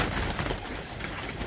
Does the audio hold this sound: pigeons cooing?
yes